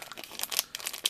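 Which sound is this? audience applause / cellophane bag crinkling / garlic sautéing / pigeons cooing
cellophane bag crinkling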